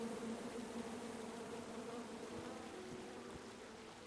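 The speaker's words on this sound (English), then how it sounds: "Come at me, bees!" Angry bees buzz steadily in the King's Quest (2015) video game, a constant droning hum that carries at even loudness through the whole stretch with no talk over it.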